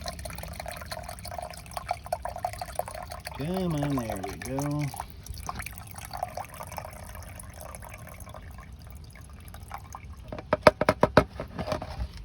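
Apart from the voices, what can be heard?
water draining out of a pool chlorine tab dispenser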